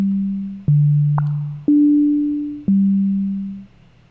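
Sonic Pi synth notes play one after another, four sustained tones about a second each with a short high blip between, clean and steady, with a faint tail after the last note.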